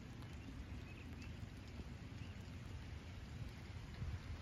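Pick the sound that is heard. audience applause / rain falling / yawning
rain falling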